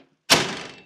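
A freshly re-hung door on a Toyota FJ40 is shut: a single loud metallic slam after brief silence, with a quick rattling decay close by.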